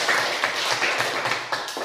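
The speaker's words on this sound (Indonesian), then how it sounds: "Ya, tepuk tangan dulu untuk kalian semua." A class applauds its students with a brief burst of dense, steady hand clapping from many people close by, with no talk over it.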